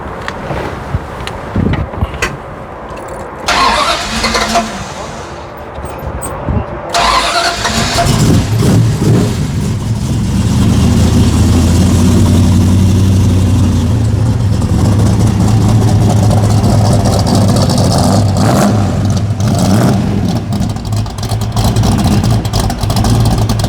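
Hot rod car engine cranking and catching, then settling into a loud, steady rumble with revving, near and dominant after a few seconds of clanks and handling noise.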